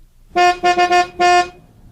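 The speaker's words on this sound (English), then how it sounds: "Have some fun filling in the missing notes with your own car horn." Car horn honks sounding out notes in a honk-along on a car stereo test tape: four loud blasts in quick rhythm, the last one longest, with nothing else behind them.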